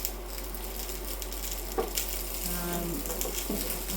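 Steady sizzle of sausages in a pan as they are turned, with a few light clicks and scrapes of the utensil over the constant frying hiss.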